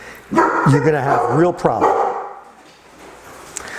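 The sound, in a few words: dogs barking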